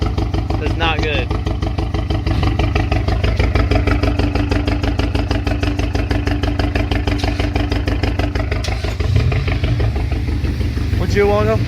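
A 2017 Camaro 2.0 turbo four-cylinder with a bad misfire and a dead cylinder runs close and loud, its steady loping pulse repeating without a break and with no other sound over it.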